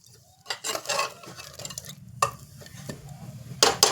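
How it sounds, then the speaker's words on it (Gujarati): Peanuts tossed into a pan while cooking a village-style whole brinjal dish rattle and scrape as they are stirred, several bursts of clattering under a low steady sizzle. "આપણે હવે સિંગદાણા નાખી દઈએ બધા."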